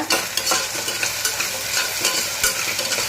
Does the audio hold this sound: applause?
no